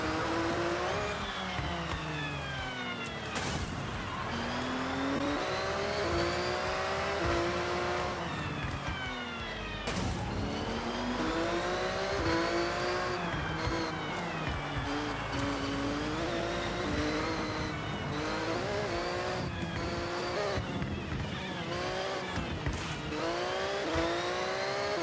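A race car with an eight-gear transmission in the Forza Horizon 6 video game revs hard and loud throughout, its engine pitch climbing and dropping repeatedly through rapid gear shifts, with occasional tire noise and no talk.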